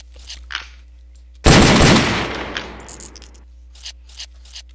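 A Colt Commando carbine in a Minecraft gun mod goes through its reload, a loud burst of metallic rattling and clatter followed by scattered clicks and clacks fading off.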